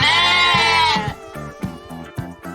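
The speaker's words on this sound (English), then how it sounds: "It's sheep." A sheep gives one long loud wavering bleat, followed by a few shorter, softer bleats in quick succession.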